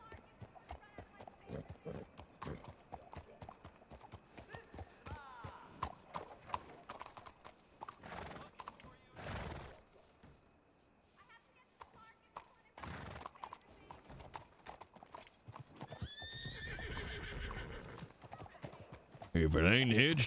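Steady clip-clop of hooves with occasional horse whinnies in Red Dead Redemption 2 roleplay, over near-continuous talking and game noise; a loud burst near the end.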